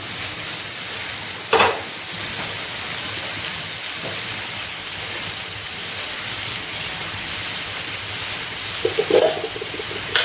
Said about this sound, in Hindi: अब देखिए इसमें मसाले डाल दें।